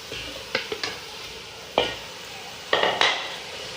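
Mutton keema frying with tomatoes in a pan, a soft sizzle broken by several sharp spatula scrapes and clinks, a few in quick succession.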